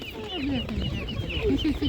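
Market poultry cluck loudly and repeatedly at close range, a busy run of short pitched calls from several birds amid faint background bustle.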